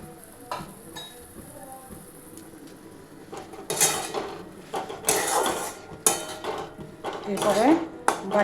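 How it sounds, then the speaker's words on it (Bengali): A bowl being rinsed and handled in a kitchen, with irregular clinks and clatters of dishware and bursts of running water, loud and close, coming in uneven clusters. "এরপরে বাটিটা ধুয়ে নিচ্ছি"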